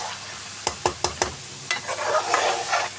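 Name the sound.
potatoes and eggs sizzling while being stirred and fried in spices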